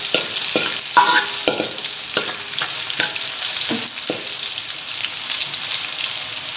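Meat frying in a hot pan until crisp, a steady bright sizzle with intermittent scraping and stirring strokes from a utensil, close and continuous with no talk.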